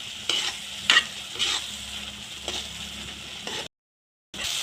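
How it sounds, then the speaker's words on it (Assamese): Spice masala with coriander powder and red chili powder sizzles in hot oil while a spoon scrapes and stirs it, with several distinct clattering strokes over a steady frying hiss, then a brief silence before the sizzle resumes. "এতিয়া মই গোটেইখিনি ভালদৰে মিলাই ভাজি ল'ম। তেল ওলোৱালৈকে মই ভাজি থাকিম।"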